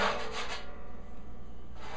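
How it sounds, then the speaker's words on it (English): Fingers rub across the head of a banjo, giving a soft, dry, scratchy swishing that wavers for a couple of seconds, quiet and close. "if you move your fingers around on top of the banjo, you get a sound like this."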